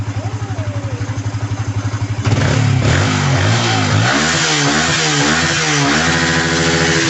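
A freshly rebuilt motorcycle engine idles with a steady loud putter, then jumps into revving, rising and falling repeatedly as the throttle is blipped close by.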